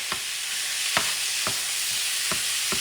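Ground meat sizzles steadily in a pan for Puerto Rican carne molida, with a spoon stirring and scraping through it about six times at a loose, uneven rhythm, close and fairly loud, with no talking.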